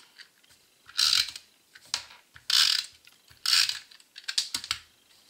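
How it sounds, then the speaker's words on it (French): An adhesive tape runner applying glue for paper card-making clicks and ratchets in several short, crisp bursts at close range, with brief quiet gaps between strokes. "Avec mon snail, je viens coller mon ruban."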